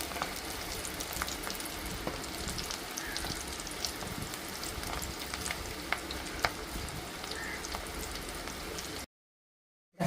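Pakodi batter dropped into hot oil over a low flame, frying with a steady dense sizzle and small crackling pops, alone and fairly quiet, cutting off abruptly near the end.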